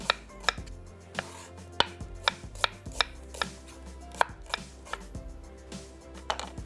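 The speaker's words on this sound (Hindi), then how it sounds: "यहाँ ले लेते हैं एक दूसरी प्याज, इसको हमने थोड़ा सा छोटा काट लेना है।" An onion chopped with a knife on a cutting board in a home kitchen, a steady series of sharp, close knocks at a brisk, slightly uneven pace with no talking.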